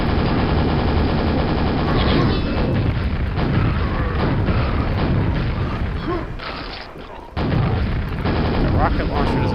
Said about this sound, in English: Rocket launcher doesn't really help you against shamblers